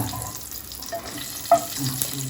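Four chillies being sautéed in a pan give a short burst of sizzling with a brief scrape or clink from a spoon partway through, close by and moderately loud.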